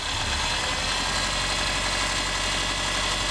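A Subaru Outback's 2.5-litre H4 engine runs with a steady, close mechanical hum and low vibration, holding near idle with no clear rise in revs.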